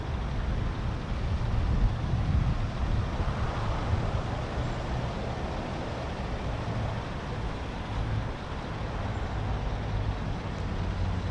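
A lifted 2018 Chevy Silverado 1500 Z71 4x4 pickup on the road gives a continuous low rumble of engine and tire noise from inside the cab, steady throughout with no talking.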